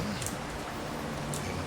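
Steady rain falls in Farming Simulator 25, a dense, even hiss of drops that stays constant and moderately loud for the short stretch, with no voices.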